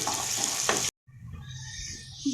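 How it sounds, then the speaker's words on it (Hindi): Onion frying in oil in a pressure cooker, a bright continuous sizzle with a scraping stir, then a brief cut before a quieter bubbling fry resumes close by. "प्याज को अच्छे से ब्राउन कर लेंगे।"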